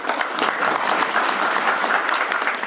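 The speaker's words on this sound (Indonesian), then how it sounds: "Tepuk tangan untuk beliau" Audience applause for the regent of Magetan at a community Ramadan fast-breaking event in a village, a dense, steady wash of many hands clapping, close and loud throughout.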